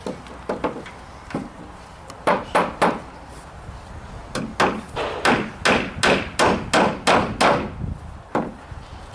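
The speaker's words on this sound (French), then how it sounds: "Et là, je vais clouer avec des 55." Hammer driving 55 mm nails into wooden formwork for a precast beam, sharp close knocks in quick runs, several fast regular strikes per nail, loud and alone.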